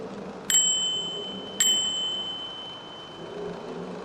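Two bright, clear bicycle bell dings about a second apart, rung in a tunnel, each ringing out and fading slowly over a low background rumble.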